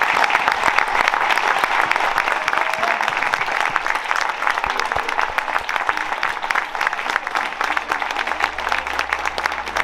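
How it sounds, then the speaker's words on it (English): Loud, sustained audience applause fills the whole stretch, a dense wash of many hands clapping together that never lets up, with a faint low hum underneath and no clear speech. "give him a round of applause"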